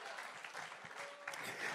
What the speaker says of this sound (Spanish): Dale un aplauso y alaba la gloria de su nombre.